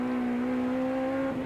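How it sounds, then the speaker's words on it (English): A 1988 AMSCAR Series race car at Amaroo Park, its engine holding a loud, steady, high whine as the wheels break traction, rising slightly at the end, close to the microphone with no talk. "You can hear the engine taking a rev as it breaks traction."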